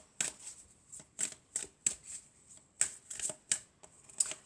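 A deck of tarot cards is shuffled by hand in a quick series of about nine crisp, close riffling bursts with brief pauses between them.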